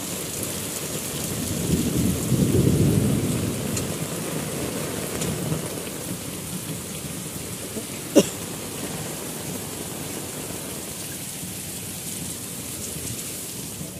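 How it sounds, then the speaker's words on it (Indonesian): Heavy rain pours steadily under distant rolling thunder that swells early on, with one sharp nearby crack partway through. "hujannya deras."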